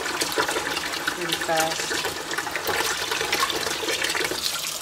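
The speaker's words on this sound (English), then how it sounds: "I can just rinse it underwater" Water runs from a tap as a cyanotype print on linen-textured paper is rinsed under it, a steady close splashing that continues beneath a person talking.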